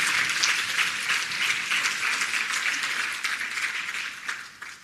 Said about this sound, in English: Clap like you mean it now, man.